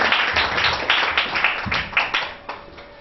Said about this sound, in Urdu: ہم پھر سے تالیاں بجائیں گے یہوہ خداوند کے لیے